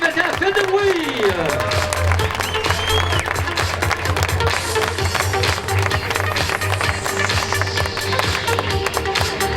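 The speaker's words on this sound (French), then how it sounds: "Applaudissements, le podium féminin, Saint-Foin 2021, fait de bruit." Audience applauds the women's podium at the 2021 Saint-Point triathlon prize ceremony, sustained clapping with music and an announcer talking over it.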